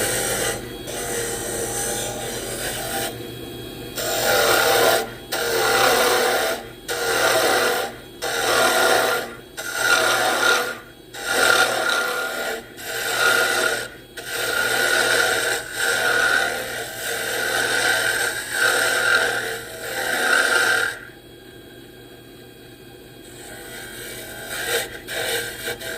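Round nose gouge shaving a soft Spectraply plywood bottle stopper spinning on a wood lathe, a close, loud rhythmic rasping in repeated strokes of about a second each, then a pause near the end.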